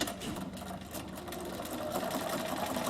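A Bernina sewing machine topstitches fabric binding, its needle motor running in a fast, steady, close whir throughout.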